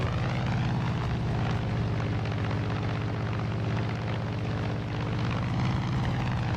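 Propeller aircraft engine droning steadily while flying in the video game Far Cry 5, a loud continuous hum with a low tone that holds throughout and no talking.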